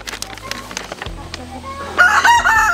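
Backyard hens cluck in scattered, close bursts, then a rooster lets out a loud, drawn-out crow that dominates the last second.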